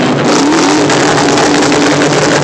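A car exhaust revs hard at an exhaust competition meet, a loud, raspy engine roar held at high revs across the whole clip, close and overpowering.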